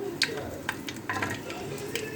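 Whole spices and a bay leaf hit hot oil that onions were just fried in for chana pulao. A soft, continuous sizzle is broken by light stirring clinks at close range.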